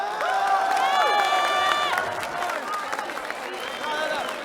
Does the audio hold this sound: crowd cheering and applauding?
yes